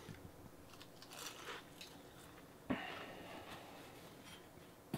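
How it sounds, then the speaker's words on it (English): A bite into a deep-fried, batter-coated Devil's Food cream cake gives one sharp, close crunch, followed by quiet chewing against a faint background. "That little bit of that crunch with that fucking Devil's Food cake."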